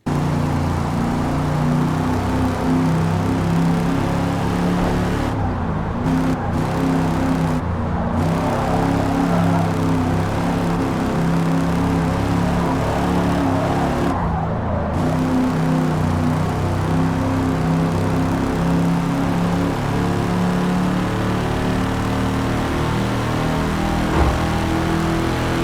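AMC Rebel The Machine engine in Forza Motorsport, a steady loud drone with layered harmonics running throughout, rising and holding near top speed with only brief dips, no talking.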